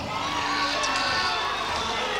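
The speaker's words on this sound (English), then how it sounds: "The crowd aren't happy about that." Displeased boxing crowd at Melbourne's Festival Hall after a fight stoppage, a steady wash of murmuring and jeering from many people filling the hall, loud and constant.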